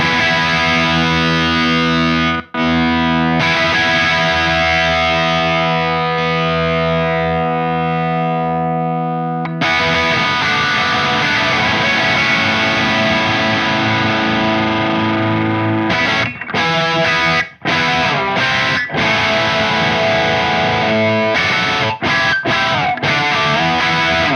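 Electric guitar played through a gain pedal with delay switched off: loud, distorted sustained chords ringing for several seconds, then choppier strummed chords with brief stops between them.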